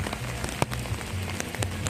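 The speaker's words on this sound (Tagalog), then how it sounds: "Umulan na, malakas." Steady rain pattering on a surface, with scattered louder drops tapping nearby and a constant dense hiss.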